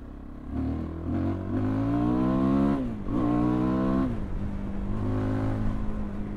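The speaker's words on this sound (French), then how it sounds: "Le pot pétarade, sympa." A Fantic Caballero 500 scrambler motorcycle engine revs up and eases off, its pitch rising and falling, with rough crackling from the exhaust as it slows.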